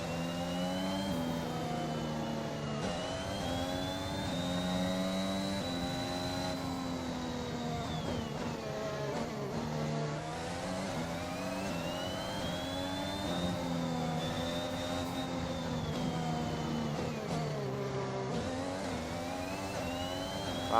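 Formula 1 car engine in the F1 2021 racing game on a slow tyre-warming out lap, a continuous high whining drone that rises and falls steadily as the car gently accelerates and shifts, with no talking.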